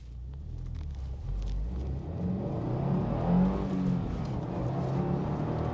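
A 2022 Subaru WRX Sport with a manual gearbox accelerates hard, its engine rumble rising and swelling in pitch over a few seconds, heard from inside the car without talk.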